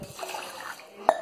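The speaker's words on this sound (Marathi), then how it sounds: "आता याला आपण थोडंसं पाण्याने वॉश करून घेऊया" Rice and urad dal are rinsed with water in a kitchen, a short, quiet slosh of grains and liquid capped by one small splash.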